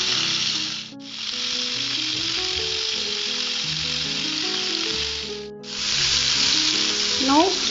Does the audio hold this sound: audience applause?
no